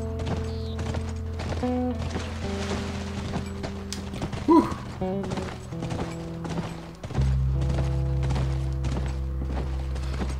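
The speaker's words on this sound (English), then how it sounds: "I'm riding horses." Horse hooves clip-clop at a walking pace in the video game The Last of Us Part II, a steady rhythm of soft thuds over a low sustained musical drone.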